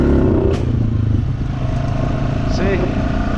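A clapped-out Honda ATV engine with a suspected top-end problem runs at full throttle, a loud, rough, clattering drone that stays near and steady, with someone talking over it.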